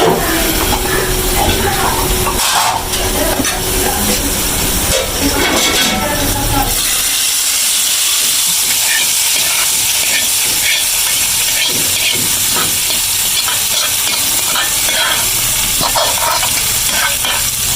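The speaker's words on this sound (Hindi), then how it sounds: "अब हम भगा लगाएंगे" Onion, cumin and whole chillies sizzle in hot oil as a tempering for kadhi. A loud, dense hiss and crackle fills the space, fiercest at first and then easing into a steadier sizzle close by.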